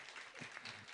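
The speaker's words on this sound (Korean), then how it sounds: "우리 하나님 앞에 영광의 박수 돌려드릴까요?" A church congregation gives a short burst of applause, a soft, dense patter of many hands clapping together, heard faintly as if from a distance.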